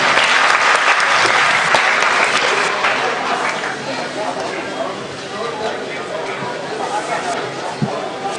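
Wedding guests at a Buddhist-style ceremony break into loud, sustained applause close by that slowly thins out, with crowd chatter mixed in.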